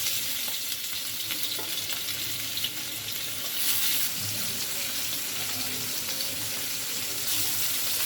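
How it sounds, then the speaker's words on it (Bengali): Tilapia fish frying in hot oil in a pan, a steady close sizzling hiss throughout with faint scraping and stirring sounds, no talking. "প্রথমে মাছগুলো ভেজে নিব।"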